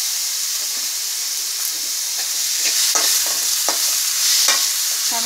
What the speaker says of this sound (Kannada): ಟೊಮೊಟೊ ಸ್ವಲ್ಪ ಒಂದು ನಿಮಿಷ ಇದರಲ್ಲೇ ಫ್ರೈ ಆಗಲಿ, ಬೇಯಲಿ ಟೊಮೊಟೊ ಚೆನ್ನಾಗಿ.